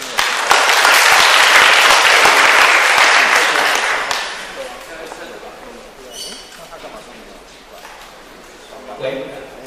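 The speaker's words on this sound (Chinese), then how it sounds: "好，那就请大家掌声欢迎丁美。" Audience applause welcoming presenters at a tech community talk, a loud dense burst of clapping for about four seconds that fades, followed by quieter room noise and brief voices.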